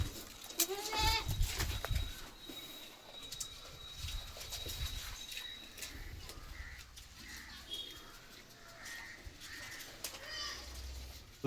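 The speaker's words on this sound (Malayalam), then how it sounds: "ചെറിയ ആടുകളാണ് കേട്ടോ. നല്ല ആടുകൾ." Several young goats, about three months old, bleat intermittently, some short and some drawn out, at moderate distance with quiet farmyard background and a bird calling.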